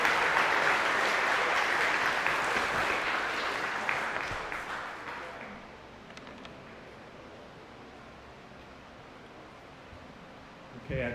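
A school moving-up ceremony audience applauds for student reading award winners, a dense wash of clapping that holds for about five seconds and then tapers off into quiet room noise.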